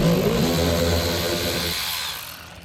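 Power tool whirring steadily as it backs out the 7mm screws along the front bumper of a 2020 Dodge Charger Scat Pack, a continuous nearby buzz that fades out toward the end.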